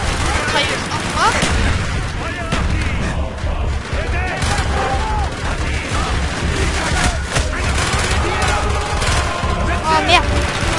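Gunfire from the Call of Duty Black Ops video game, with a dense, continuous battle mix of shots and blasts at steady loudness throughout; voices talk over the combat.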